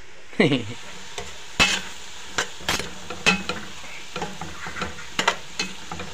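Beef for pinapaitan sautéing in a pan, a steady sizzle broken by repeated sharp scrapes and clinks of a utensil stirring against the metal, close and fairly loud, with no talking.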